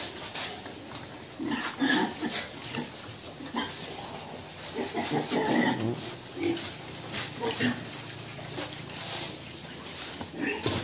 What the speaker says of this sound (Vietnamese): mình ủ lại rồi mình cho heo ăn. Đó, nó ăn rất mạnh.